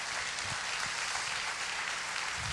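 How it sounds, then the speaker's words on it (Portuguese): A church congregation applauds during an evening service, giving a faint, even wash of clapping that holds steady for a couple of seconds with no voices on top. "Vamos aplaudir a palavra do Senhor nessa noite"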